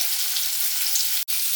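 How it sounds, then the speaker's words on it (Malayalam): Chicken pieces coated in masala fry in coconut oil in a pan, giving a steady, close, crackling sizzle with one brief dip near the end. "പിന്നെ ഇതെല്ലാം വറക്കാം."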